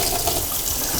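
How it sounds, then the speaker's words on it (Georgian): Water is poured into a cooking dish of Tuscan-style chicken in a kitchen, a brief steady gushing splash heard up close. "ცოტა წყალი დავუმატოთ კიდე."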